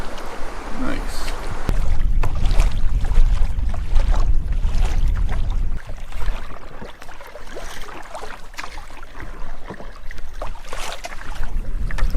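Canoe paddling along the shoreline of Jimmy Kash Lake in remote wilderness, with steady water sloshing and paddle strokes close to the microphone, some wind buffeting, and a brief quieter stretch midway.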